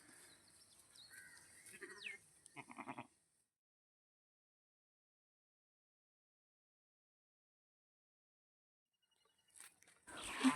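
Goats just vaccinated in a village bleat in a few short, wavering cries at the start, then fall silent before a louder, closer burst of bleating and movement at the end.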